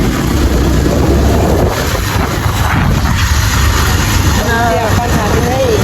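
A motorbike rides along a road with a continuous engine drone and rushing wind noise throughout, with a voice briefly audible near the end.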